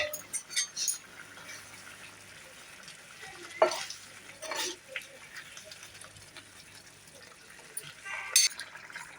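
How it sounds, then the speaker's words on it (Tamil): Mushrooms cook in a pan for restaurant-style mushroom gravy, with soft sizzling and a few sharp scraping stirs of a utensil against the pan, fairly quiet overall. "காளான் போட்டுறேன், மஷ்ரூம், மஷ்ரூம் ஒரு 5 நிமிஷம் நல்லா வெந்துடும்."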